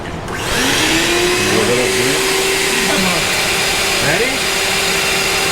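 A shop vacuum hose pulls on the valve cover of a turbo LS-swapped Jeep Comanche, giving a steady loud whine that starts abruptly and runs throughout. A brief voice is heard at the start.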